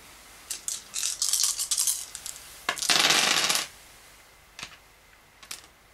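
Plastic Quarriors game dice rattle and clatter as they are scooped, shaken in a bag and drawn out, with a burst of bright rattling in the first seconds, a louder sustained shake, then a few single clicks, close and without talk.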